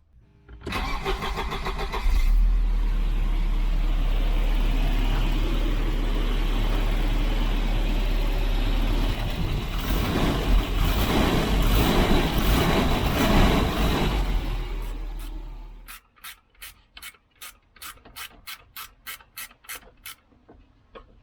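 A Volvo 740 engine cranks and catches, then runs at a steady rumbling idle for several seconds before cutting off, followed by a series of sharp rhythmic clicks.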